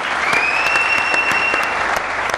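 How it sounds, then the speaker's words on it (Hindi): A studio audience at a cricket talk show covering a Multan versus Karachi PSL match breaks into applause: dense, even clapping that stays steady for a couple of seconds, with no talking over it. "तालियां होनी चाहिए"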